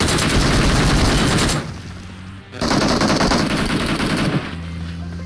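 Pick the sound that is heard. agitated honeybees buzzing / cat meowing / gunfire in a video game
gunfire in a video game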